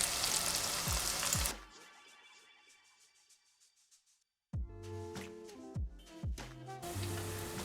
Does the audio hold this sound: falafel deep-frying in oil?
yes